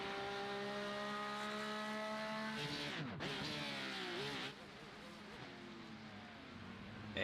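Race cars in a BMW sim racing game at the Algarve circuit, engines droning at high revs, then shifting and fading as a car passes and pulls away, with commentary audible underneath.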